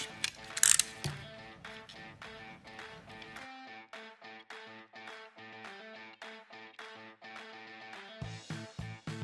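A utility knife blade is extended and retracted during a papercraft project making a butterfly-shaped paper tube favor, producing many close, crisp ratcheting clicks in quick irregular runs with no talk.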